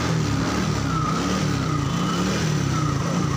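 Yamaha Mio Soul GT fuel-injected scooter engine idling steadily close by, a continuous low mechanical hum with no voices.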